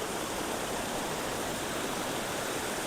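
Water rushes steadily at a waterfall and its flowing streams at a scenic spot in Goa, a continuous broadband roar with no voices.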